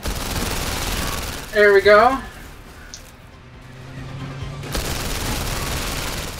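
Gunshots crack in PlayStation VR Worlds: The London Heist amid a steady rush of background noise, while someone speaks briefly in between.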